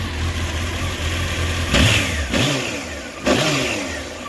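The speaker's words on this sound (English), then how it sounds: "Start it right up, smooth idle, right where it should be, 1100." 1993 Honda CBR900RR California-spec motorcycle, restored, idling with a steady low thrum, then blipped three times in quick sharp revs that rise and fall, close and loud, with no talking.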